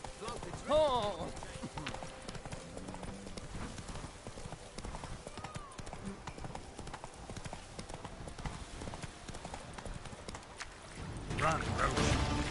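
A horse gallops in a Witcher 3 game world, with rapid clip-clop hoofbeats running steadily throughout, a brief whinny early on and a heavier burst of movement near the end, heard under faint game sounds.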